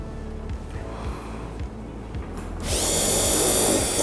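A 3.3 mm dental implant drill running at 800 RPM during full-depth drilling to 13 mm for a MeGagen MiNi implant, giving a steady high-pitched whine that starts abruptly partway through, after a few faint clicks.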